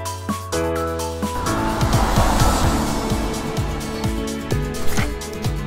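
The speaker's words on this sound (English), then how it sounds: "Mail car." Cartoon-style mail car sound effect in a children's vehicle-learning video: a revving engine with rising, repeating tones and a tire-squeal swoosh, loud and close, playing alone over a musical backing.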